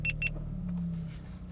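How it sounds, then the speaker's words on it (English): A Kia ProCeed is switched on with two quick electronic beeps, then a low engine rumble and hum settling in close, with no talking. "let's turn the car on"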